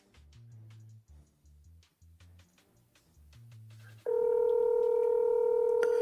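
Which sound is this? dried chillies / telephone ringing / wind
telephone ringing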